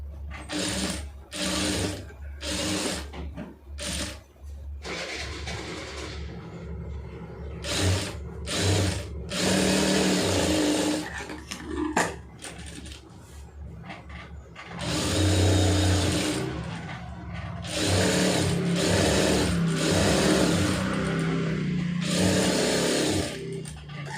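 A sewing machine stitches a lined blouse in repeated bursts of fast, whirring mechanical chatter separated by short pauses, loud and close, with some longer runs of steady stitching.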